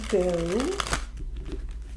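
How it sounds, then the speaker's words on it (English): Tarot cards are shuffled with a quick riffling, papery flutter close by, following a brief spoken phrase at the start. "I'm going to give it one more shuffle here."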